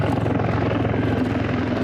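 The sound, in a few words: Z-20 helicopter with WZ-10 turboshaft engines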